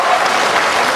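A rally crowd applauds vigorously, a thick, continuous roar of many hands clapping at close range, steady and loud for the whole second without pause.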